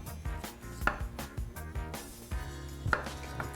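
A knife cutting the skin off a squash, with a string of close, dry scraping and chopping strokes against a board in an uneven rhythm, alone without speech.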